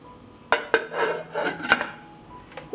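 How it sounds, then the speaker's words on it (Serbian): A lid goes onto a cooking pot holding jars and a cloth, giving several sharp metallic clinks and scrapes with short rattling contacts, close and distinct in a quiet kitchen. "Poklopit ću šerpu."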